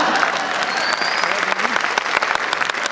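A comedy show audience breaks into dense, sustained clapping that fills the room, with a voice faintly audible beneath it.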